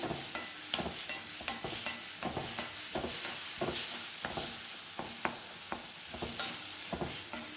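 Ingredients frying in oil for paruppu rasam while being stirred in a pan, with a soft steady sizzle under repeated sharp scraping and tapping strokes from the spoon.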